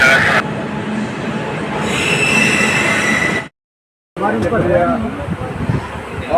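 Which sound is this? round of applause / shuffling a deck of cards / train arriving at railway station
train arriving at railway station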